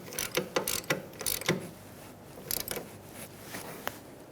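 A ratchet snugs up the rear brake caliper bolts on a 2010–2013 Kia Soul, giving rapid bursts of close metallic clicking in short strokes with brief pauses between them.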